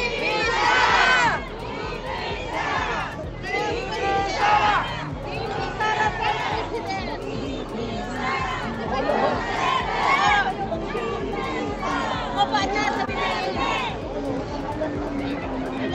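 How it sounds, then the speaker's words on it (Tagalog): Large rally crowd of overseas Filipino workers in Japan shouting and cheering in support of VP Sara, rising in repeated loud surges of chanting and yells throughout. "Hindi ko ba marinig ang sigaw na BP Sara?"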